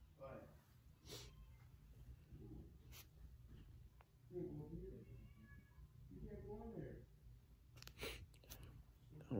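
A cat meows indoors several times at close range, short rising calls amid rustling and handling noises, while someone speaks quietly nearby.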